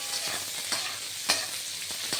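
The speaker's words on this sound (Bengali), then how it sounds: "বেগুন ভাজা হতে থাক" Steady close sizzling of eggplant frying in oil, broken by occasional scraping stirs of a utensil. No one talks.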